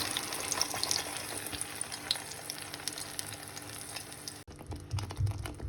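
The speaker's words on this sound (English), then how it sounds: "now I am adding this puree to oil" Puree poured into hot oil for a fish curry, giving a continuous wet sizzling hiss with scattered pops and bubbling, then cutting off abruptly to quieter stirring and light clinks near the end.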